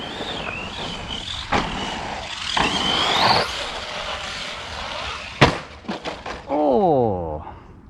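Arrma Outcast 4S V2 4S RC car driving hard outside, its electric motor whining up and down in sharp revs, broken by loud bangs and clattering impacts, with a rising and falling whine near the end.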